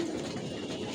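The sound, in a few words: pigeons fluttering and cooing in a loft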